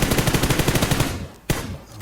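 A rapid burst of automatic gunfire in a video game rattles in a fast, even rhythm, then stops, with one more loud shot shortly after.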